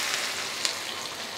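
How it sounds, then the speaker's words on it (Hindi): Pieces of a raw potato snack fry in very hot oil, producing a continuous, even sizzle with one sharp pop, close and steady throughout. "अब हम एक तरफ एक डेढ़ मिनट फ्राई करेंगे"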